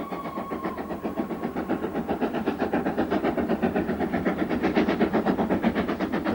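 A steam locomotive engine chuffs in rapid, rhythmic beats that quicken and strengthen as it works, with a faint whistle-like tone early on, heard alone and fairly close.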